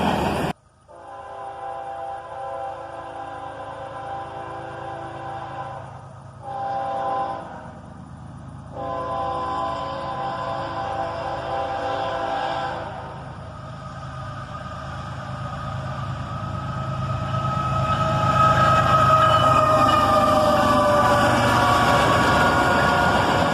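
A freight train led by a pair of AC44CW locomotives, the second still in Y&2 paint, sounds its horn in long blasts, then rumbles past with a rising roar of wheels and engines that grows louder and broader as it nears.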